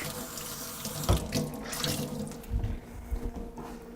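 Kitchen tap water runs into a sink to wet a dish towel for steadying a cutting board, a close, steady splashing stream with a few heavier gushes as the cloth is held under it.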